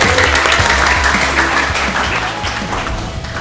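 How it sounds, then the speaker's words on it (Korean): A lecture audience applauds before a robotics engineer's talk, a full, steady round of clapping that gradually fades, with a voice briefly heard. "박수 주세요."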